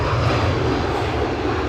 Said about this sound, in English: he's making a very professional approach and touchdown here at Edinburgh International Airport